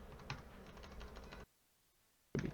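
Rapid typing on a computer keyboard while coding a Python and Pygame Tetris game, a close run of clicky keystrokes that pauses briefly before a final burst.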